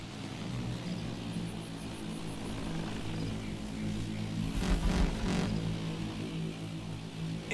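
A drone in the Call of Duty: Advanced Warfare video game hovers nearby with a steady low mechanical hum and buzz that swells briefly in the middle over a constant background drone, with no talking.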